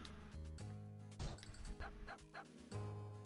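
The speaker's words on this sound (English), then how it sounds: "Oh, he barks." A dog barks a few times in the video game Omega Strike, short yips over a steady game music bed, with no talking.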